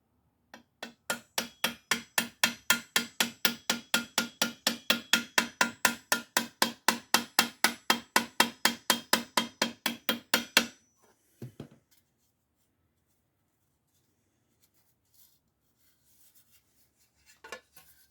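Dented molding trim on a 1973 Chevy Van tapped along its rust line with a small metal tool, a fast, even run of about forty crisp, close taps lasting ten seconds, then near silence with a couple of stray knocks.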